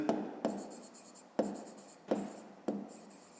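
A pen writes numbers by hand on paper during a fifth-grade maths exercise, giving close, quiet scratchy strokes in four or five short bursts separated by brief pauses.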